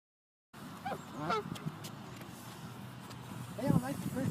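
Geese or ducks at a small park lake give several nasal honks in short bursts, fairly close, with a louder call near the end over steady outdoor background.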